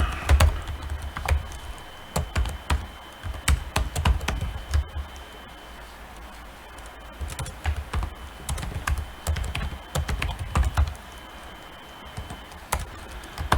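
Code being typed on a computer keyboard: rapid, close clicking keystrokes in bursts separated by short pauses, with no talking.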